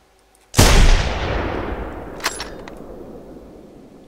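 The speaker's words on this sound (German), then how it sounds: "Da war zu weit oben der Schuss." A single booming .50 cal sniper rifle shot in a dinosaur hunting game, a sudden loud crack followed by a long rumbling decay that fades over several seconds, with a brief faint secondary impact midway.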